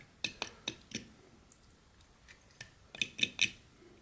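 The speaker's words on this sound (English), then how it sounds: "just put another little stop cut in there and kind of cut up to it" A whittling knife making a stop cut in a carved wooden head, heard as a series of short, crisp clicking snicks at an uneven pace and close up, faint between cuts, with no talking.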